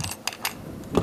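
Sharp metallic clicks from the bolt catch of a KWA LM4 airsoft rifle, a few separate snaps spread over about a second, the last one a bit louder, against faint background noise.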